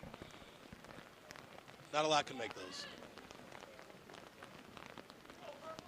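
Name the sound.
rain falling at an outdoor rugby match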